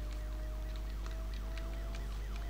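Wailing police siren in the Need for Speed Most Wanted racing game, rising and falling sweeps repeating every half second or so over a low engine drone, moderately faint.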